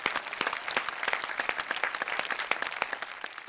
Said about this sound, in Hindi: लेकिन एक बार इनके लिए जोरदार तालियां।